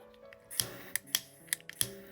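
Scissors cut sewing thread in a handmade craft setting, giving several sharp, close snips spread across two seconds with quiet background between them.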